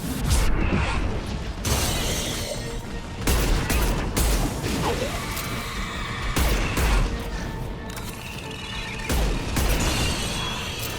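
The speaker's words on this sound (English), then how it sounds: "Firing anti-ship batteries at collector vessel." Guardian anti-ship batteries open fire in Mass Effect 2, a loud sustained barrage of heavy mechanical bursts and booms with repeated sharp onsets over a dense rumbling battle din, with no talk.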